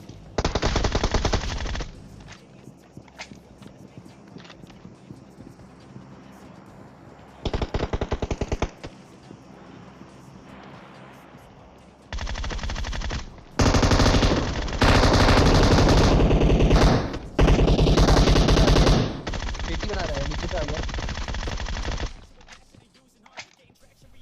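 Rapid automatic gunfire from the PUBG Mobile battle royale game, loud sustained bursts in several long runs separated by short pauses, with a voice commentating faintly underneath.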